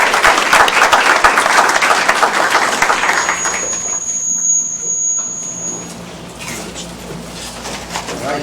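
Audience applause at a panel event, strong at first then thinning out, with a brief high electronic tone in the middle and a few voices as the clapping dies down.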